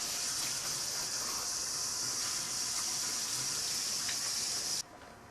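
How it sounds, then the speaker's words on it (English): Hot water pouring steadily from a kitchen faucet while preparing yeast water at 110 to 120 degrees, a continuous hissing gush that runs nearly five seconds and then abruptly cuts off. "that's hot water coming out of your faucet"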